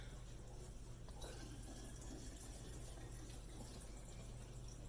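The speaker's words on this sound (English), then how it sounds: "And then we're going to go ahead and pour our water in." A steady stream of water pours into a spray bottle, a continuous splashing gurgle with no speech.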